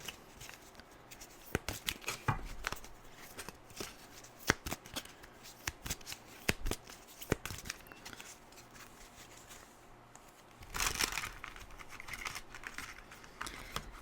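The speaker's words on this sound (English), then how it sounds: "your deck of tarot is actually hard to shuffle" A deck of tarot cards being shuffled by hand in repeated crisp bursts of rapid card flutter, separated by brief pauses and quieter handling, heard close and alone.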